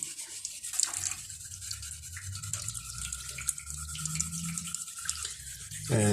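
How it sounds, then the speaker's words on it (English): Water runs and splashes while a printed circuit board is scrubbed clean around its edges, a steady close wet rinsing and brushing sound with small bursts, ending in a louder gush. "And I wash it nice and cleanly around the edges."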